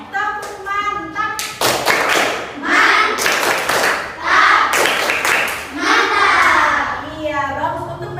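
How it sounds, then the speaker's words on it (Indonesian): A primary school class doing a rhythmic clapping chant for a classmate, children's voices chanting together with bursts of sharp, patterned hand claps and taps, close and lively, with talk mixed in. "Kita berikan dulu tepukan mantap untuk temannya."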